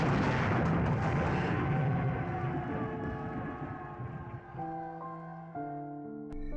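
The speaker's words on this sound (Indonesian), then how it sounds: "Kemudian bomnya pun meledak." A heavy bomb explosion in a film rumbles and fades into a long decaying roar, followed by sustained tonal music notes swelling in.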